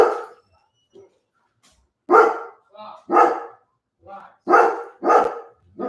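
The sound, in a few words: dog barking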